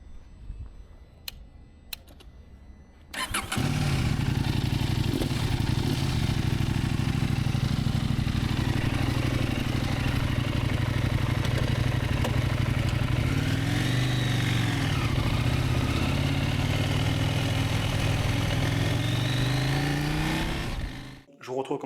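A motorcycle starts up after a few quiet seconds and then runs on steadily as the ride gets under way, the engine note rising and falling slightly near the end before it cuts off.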